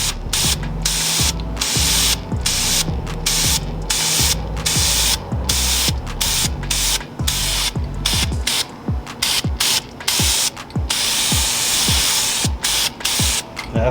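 Weld-through primer sprayed onto the repaired, rust-patched trunk of a B-body convertible: a long series of short, close hissing bursts in a quick, regular rhythm, with no talking.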